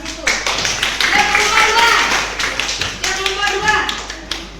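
Children in a classroom clapping their hands in quick, uneven bursts of sharp taps, fairly close, with voices talking over the clapping.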